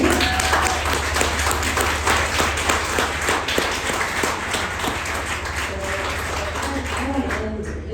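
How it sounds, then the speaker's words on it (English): An audience at a club event applauds, a steady wash of many hands clapping that holds for several seconds and slowly thins toward the end. "I think that deserves some applause, right?"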